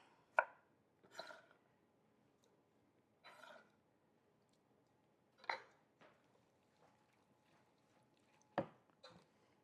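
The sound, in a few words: chopping firm tomatoes with a knife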